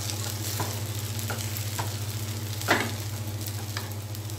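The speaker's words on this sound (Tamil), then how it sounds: "நடுவில் வந்து கிண்டி விட்டுக்குங்க, அடி பிடிக்காமல்" A pot of semiya (vermicelli) kichadi is stirred over a steady low simmering hiss, with a few soft scraping strokes and one sharper clink of the spoon against the pot.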